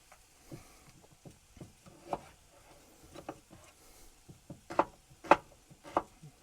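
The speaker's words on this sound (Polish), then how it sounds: "Ja po prostu kroję to w drobną kosteczkę." A knife chops carrot into small cubes on a board, a series of sharp, close cuts at uneven pace, growing louder and firmer toward the end.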